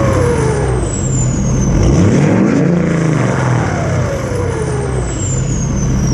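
A tuned, straight-piped truck with its catalytic converters deleted rumbles loudly nearby, its exhaust holding a continuous low roar with a rising and falling swell midway and a thin whine above.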